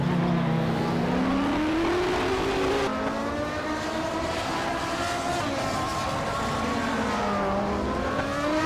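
Race car engines at Oschersleben in a racing video game, led by a 1995 McLaren: several high engines whine and rise together through gear changes, a steady, loud pack roaring without pause.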